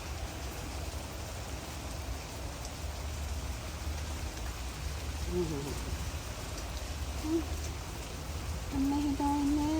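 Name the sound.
heavy rain outdoors during a storm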